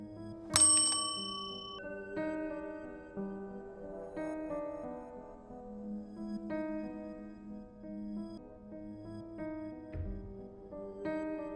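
A cursed bell in a film rings out in a series of bright, metallic strikes spaced a second or two apart, each leaving a sustained ringing tail in a quiet setting.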